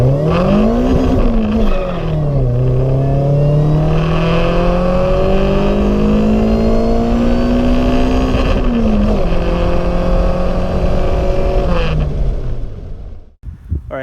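A freshly tuned car pulls hard on a data-logging drive, its engine note climbing steadily through long gear pulls with brief shifts between, loud and close from inside the cabin, fading as it slows at the end.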